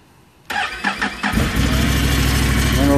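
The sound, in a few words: Can-Am Renegade 570 ATV engine starting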